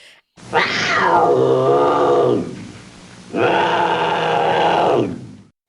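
Two long, loud, drawn-out bobcat yowls with a growling, chortling edge, separated by a short pause, close and prominent.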